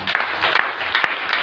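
Church congregation at a Swahili-language gospel service claps together for Jesus, a brief burst of thick, overlapping handclaps filling the room without speech.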